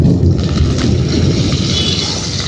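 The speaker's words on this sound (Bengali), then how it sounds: "খুব বাজ পড়ছে" Deep thunder rumbles on and off through a windy outdoor scene where mutton biryani is being cooked, a loud, continuous low roar filling the whole stretch without speech.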